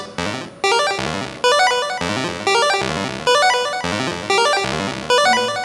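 Chiptune notes from a Nintendo Game Boy play in fast, bright arpeggios, repeating in loud, evenly spaced phrases with no voices.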